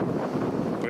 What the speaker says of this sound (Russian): Ветер поднялся, но легенький.